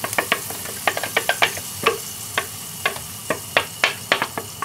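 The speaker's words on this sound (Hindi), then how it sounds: "जो आपने ग्राइंड किया हुआ मिक्सचर है वो आपने इस घी में डालकर इसको पहले अच्छी तरह इसमें हम मिक्स कर लेंगे" Ground cashew mixture being stirred into melted ghee in a pan for kaju katli, heard as a run of light, irregular spoon scrapes and taps against the pan with a faint sizzle between them, close and alone.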